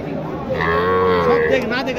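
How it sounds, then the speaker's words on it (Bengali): A cow at a cattle market in Dhamoirhat, Naogaon, gives one long, loud, close moo lasting a couple of seconds. "এই হচ্ছে গাভীটা।"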